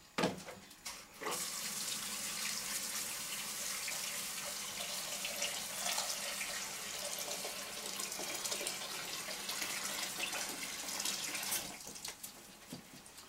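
Water runs from a tap into a container for a bread starter, a steady close splashing stream that starts abruptly, holds for about ten seconds, then cuts off.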